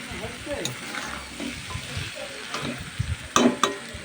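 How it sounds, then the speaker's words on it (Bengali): Mutton and spices frying and being stirred in a pan for a mutton curry, a steady sizzle broken by scraping strokes of the spatula, with a few sharper clinks and scrapes near the end. "মশলা আর মাটনটা ভালোভাবে একসাথে কষে আসছে।"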